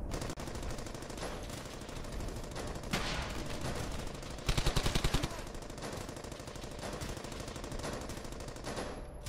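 Battlefield video game gunfire, a steady rattle of distant automatic weapons with a louder close burst of rapid shots in the middle, no talking.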